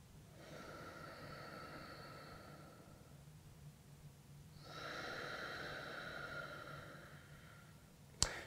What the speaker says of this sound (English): We're going to hang out here for one more deep breath.